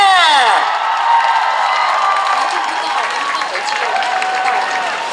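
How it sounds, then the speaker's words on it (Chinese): A live audience at a music café show cheers, whoops and applauds in a loud, sustained wash of crowd noise, with high shouts fading over a few seconds. "我们马上就要用掌声跟尖叫欢迎今天的女主人"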